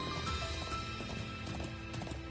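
Horse hooves clip-clop at a steady trot in the video game Trails into Reverie, an even, quick rhythm of hoofbeats over layered game music, quiet and continuous.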